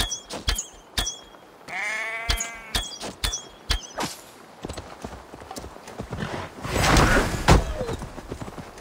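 An alarmed ram bleats once in a quavering cry, set among sharp hoof-like clops and knocks and a noisy rustling burst toward the end, with no talking.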